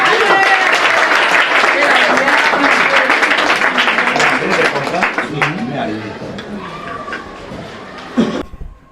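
A church congregation claps loudly at an evangelist's teaching on deliverance, with sustained applause mixed with voices and cheering that gradually thins and fades toward the end.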